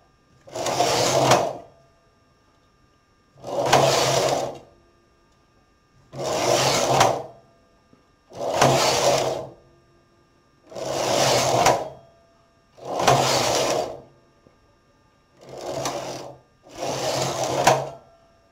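Domestic knitting machine carriage sliding back and forth across the needle bed knitting rows for newborn-size socks: eight evenly spaced rattling, whirring passes, each a couple of seconds long, separated by brief quiet gaps, close and clear.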